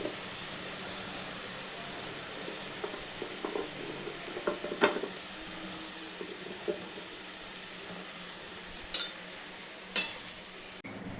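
Drumstick stems and green chilies fry in a pan with a soft, steady sizzle, joined by a few sharp utensil clicks near the end.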